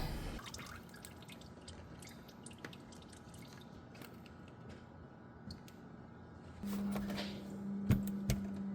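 Steady slow dripping of CVT transmission fluid from the drain of a 10th-generation Honda Civic EX, the drops falling one after another at an even, ticking pace, close by with no voices.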